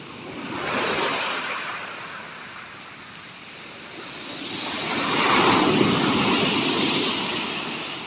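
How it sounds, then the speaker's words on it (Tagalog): Large ocean waves roll and crash on a shore in a continuous broad roar that swells and fades, with no voices. "Yan ang lalaki ng alon"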